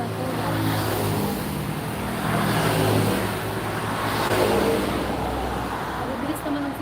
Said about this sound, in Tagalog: Mabilis naman ang sasakyan.